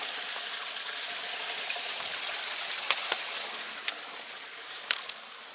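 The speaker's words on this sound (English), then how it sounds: "this is a nice little creek" A small creek on an Appalachian Trail hiking path flows with a steady broadband rush of water, close by, with a few brief sharper splashes or clicks near the end.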